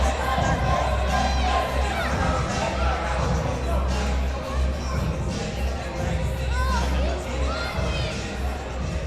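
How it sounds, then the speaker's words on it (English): A capacity crowd at a wrestling show at Taino Towers roars in sustained ovation, with loud cheering, shouting and whistles forming a dense continuous wall of noise. "you hear the ovation for him here at this capacity crowd"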